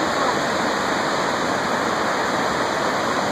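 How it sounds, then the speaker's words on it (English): The Kaweah River rushing beneath Pumpkin Hollow Bridge in the small town of Three Rivers, a constant, loud hiss of fast-flowing water with no pauses, close by and without voices. "This is the Kaweah River."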